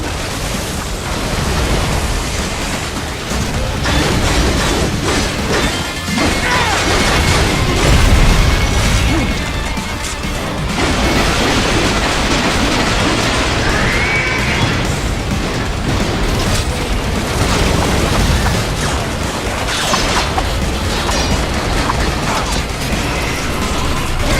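Continuous loud explosions, booms and mechanical clatter fill the Metal Gear Rising: Revengeance action game, with missiles blowing up in a dense, unbroken barrage.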